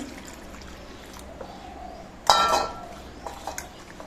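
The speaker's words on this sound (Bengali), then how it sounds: "এবার এই আলুগুলো আমি ধুয়ে নিচ্ছি" Small cut potato pieces are rinsed in a bowl of water in a home kitchen: one loud clattering splash midway, then quieter knocks and trickling.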